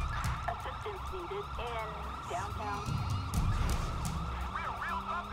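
A police car siren in GTA 5 wails and yelps in rising and falling sweeps over a steady rumble of engine and traffic noise, fairly loud and continuous throughout.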